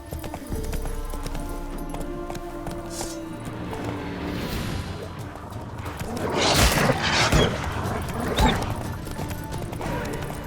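A horse gallops in The Witcher 3 video game, its hooves drumming in a steady clip-clop rhythm over continuous game ambience, with a brief neigh-like swell midway.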